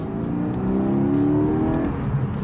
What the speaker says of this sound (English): The only thing you really want to do is listen to the engine.